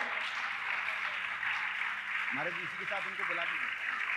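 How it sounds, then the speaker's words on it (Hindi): Sustained audience clapping at a religious gathering, a continuous hissing patter that runs underneath someone speaking over it. "आपकी तालियां लगातार बजते रहना चाहिए"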